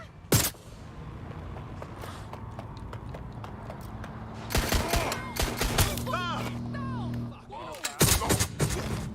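Police gunfire in Watch Dogs Legion, scattered sharp shots and short bursts amid clattering traffic and radio-style chatter, with voices talking throughout.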